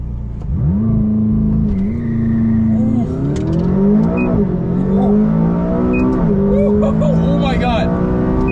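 A McLaren 570S launching hard with launch control, its engine note climbing steadily through the gears with brief dips at each shift, loud and continuous inside the cabin as people talk and exclaim over it.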